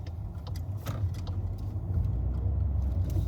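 A car pulls away after parallel parking, its engine a steady low rumble heard from inside that swells slightly as it moves off, with faint light ticks and clicks scattered over it.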